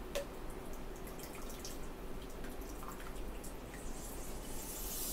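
Coffee water dripping from an AeroPress brewer, a faint, steady patter of small drops over a quiet hiss, continuous and close with no talk.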